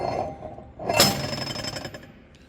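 A hammer strikes bricks on a large Hector brick cutter, one sharp loud impact followed by a ringing, rattling tail that fades over a couple of seconds.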